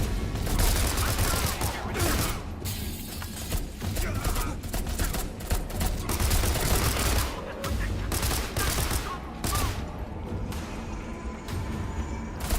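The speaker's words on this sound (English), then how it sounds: "He shot me without pointing his gun at me." Gunfire in the horror video game Beneath, a dense, continuous run of shots and impacts that fills the whole stretch loudly and steadily, with a voice mixed in under the noise.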